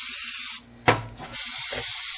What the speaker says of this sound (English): I'm just going to spray them really good